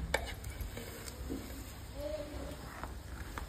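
Biryani being stirred in a cooking pot, a soft scraping and shuffling under faint kitchen sizzle, with people talking nearby throughout.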